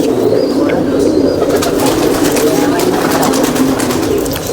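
Ferozpuri pigeons coo in a steady, continuous low murmur, fairly close and loud, with a constant flock-like hum and faint higher chirps throughout.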